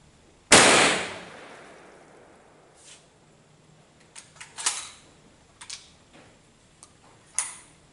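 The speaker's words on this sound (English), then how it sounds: "We'll shoot it again and watch it bolt." Charles Daly gun fired once, a sharp, loud crack that decays quickly, followed by scattered lighter metallic clicks and clatters from the action and handling.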